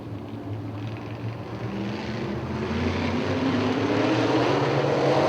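UMP modified race cars at Hartford Speedway Park take the green flag, their engines building into a loud rising roar that grows steadily from a distance as the pack accelerates.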